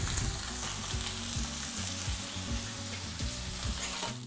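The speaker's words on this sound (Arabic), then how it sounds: "الصومو فوق المقلاة" Salmon frying in a pan, a steady dense sizzle and crackle running throughout at moderate level, close and continuous with no talking.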